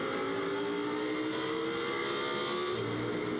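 A Lamborghini Super Trofeo race car at full throttle on the Silverstone circuit, from onboard: a loud, sustained engine roar with rising and shifting pitch, and no voices.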